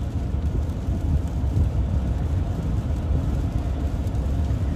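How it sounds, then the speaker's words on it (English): Heavy sheets of rain pound steadily in a dense low roar, likely drumming on a vehicle on the road, continuous and loud with no voices. "sheets of rain."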